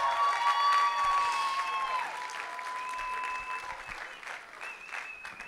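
Wedding guests applaud the bride in a reception hall, steady clapping with tonal whistles or music-like lines over it, loud at first and gradually softening across several seconds.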